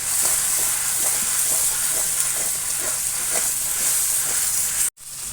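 A mixed spice blend frying in oil makes a continuous bright sizzle with faint rhythmic stirring scrapes, then cuts out abruptly for a moment near the end before resuming.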